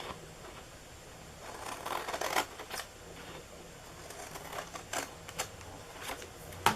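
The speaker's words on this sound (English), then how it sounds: "just cut the bottom, and then we're going to cut up on the bottom each one of these to form our flaps" Paper card being snipped with scissors to form flaps for a snowman treat box, a series of short crisp cuts at an uneven rhythm, close and fairly quiet, with no talking.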